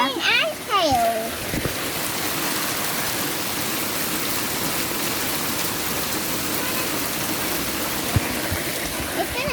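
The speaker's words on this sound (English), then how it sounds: "It's rain and hail." Heavy rain mixed with hail pounds steadily on a garden during a storm, a dense, continuous roar close to the microphone, with excited voices talking briefly at the start and again near the end.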